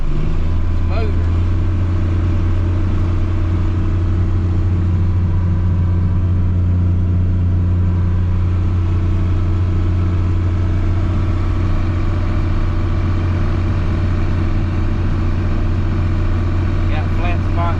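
A John Deere 4640 tractor engine runs steadily while driving, a loud, constant low drone with a smooth, even hum throughout and no pauses.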